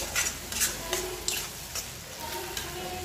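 A spoon stirs salt through a pan of matar paneer curry, scraping lightly against the metal in quick, uneven strokes over a soft, steady simmer, close by with no talking.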